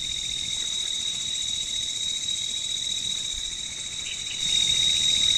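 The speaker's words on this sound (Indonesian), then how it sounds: "ada suara-suara alam seperti walang ngecak." Katydids or crickets chirping at night at a campsite in light drizzle, a dense, steady high-pitched trill that continues unbroken and grows slightly louder near the end.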